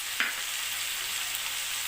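Chopped medium tomato dropped into a hot pan of frying ol kopi for a Bengali dalna, a brief splash at the start followed by a steady, even sizzle with no voices.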